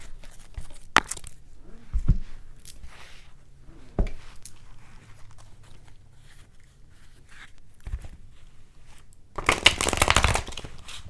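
Tarot cards are shuffled close up, with soft riffles, taps and slaps scattered over the clip and a longer burst of shuffling near the end.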